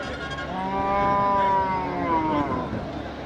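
Cattle lowing at Manapparai cattle market, a long harmonic moo held for about two seconds over steady market crowd noise and other distant animal calls.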